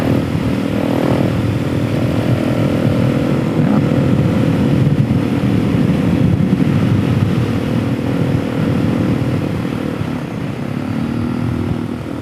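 A 470 Stroker motorcycle engine drones steadily while being ridden, a loud continuous engine roar with wind noise that holds for the whole stretch with slight swells as the throttle shifts.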